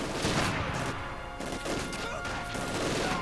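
Bursts of machine gun fire and crashing impacts pile up in a World War II strategy video game battle, rapid overlapping volleys with sharp cracks throughout.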